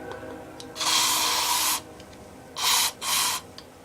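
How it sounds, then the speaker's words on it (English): CRC lubricant sprayed from an aerosol can into a cup: one long hissing burst, then two short bursts a moment later, close and clear in a quiet room. "you're just going to put a couple sprays into this cup"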